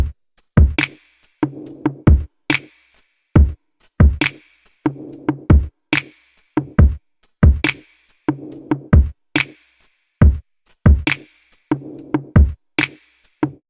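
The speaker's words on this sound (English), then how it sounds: "Altogether, the drums sound like this." A punchy electronic drum loop with booming kicks, sharp snares and ticking hi-hats repeats in a steady groove, loud and dry.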